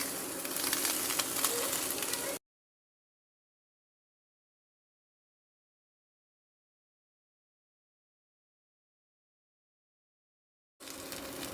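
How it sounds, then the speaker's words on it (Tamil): Leaves sauté on a hot dosa griddle in a steady, close sizzle. The sizzle drops out into silence for several seconds and then comes back. "இலை நல்லா வதங்கிட்டு இருக்கு."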